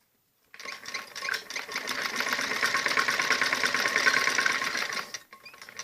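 A sewing machine stitching a kameez neckline runs in one steady, fast burst of rapid mechanical chatter for about five seconds, close and loud, starting and stopping abruptly.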